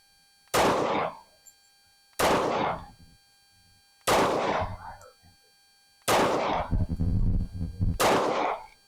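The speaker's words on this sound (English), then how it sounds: "Going to keep shooting center mass." Five loud, sharp gunshots from a Tisas 1911 Carry .45 ACP pistol with a 4.25-inch barrel fired at a shooting range, spaced roughly two seconds apart, each with a short ringing decay and no talk.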